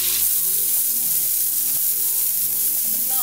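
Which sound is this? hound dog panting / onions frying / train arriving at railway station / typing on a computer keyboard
onions frying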